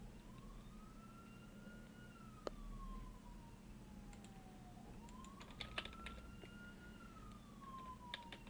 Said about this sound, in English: If you're hearing any sirens, sorry for that